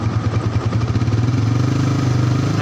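A Yamaha Vixion motorcycle engine is throttled up close by, its loud pulsing exhaust rising in pitch and speed as it revs. No one speaks.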